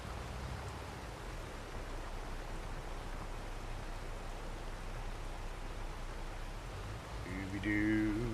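Steady rain falls across a farm in Farming Simulator 22, an even wash of hiss that barely varies in level, with a brief tonal game sound entering near the end.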